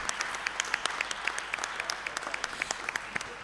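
Audience applause in a hall at a 40th anniversary celebration and general meeting of an architects' institute chapter in Abuja, greeting a past president; steady dense clapping with sharp individual claps throughout, moderately loud.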